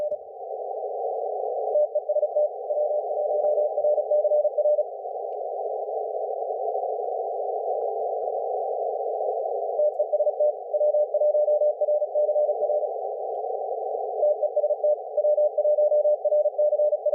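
Amateur radio Morse code CW sidetone during an HF contest: a steady mid-pitched tone keyed in bursts of fast dits and dahs, loud and close, running almost continuously with brief gaps and no talk.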